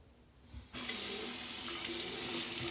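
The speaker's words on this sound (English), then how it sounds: "Forgot to fill up my sink." A bathroom faucet runs into a sink during a head shave, starting abruptly as a steady, close, full rush of water that holds evenly to the end, with no talking.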